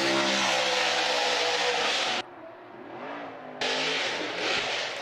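A drift car at a Formula Drift event screams at high revs, cuts abruptly to a lower muffled drone for about a second, then snaps back to a loud, harsh engine wail.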